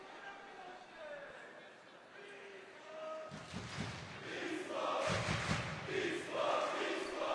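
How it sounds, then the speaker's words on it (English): A basketball arena crowd at a women's Euroleague game rises into a broad roar of cheering in the second half, with a commentator's voice talking over it. "You see crowd already attempts to cheer their team to victory here"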